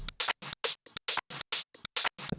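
Chopped-up, juddery drum loop built from scratch: short bursts of bright, noisy hits cut off by abrupt silent gaps in a stuttering, stop-start rhythm.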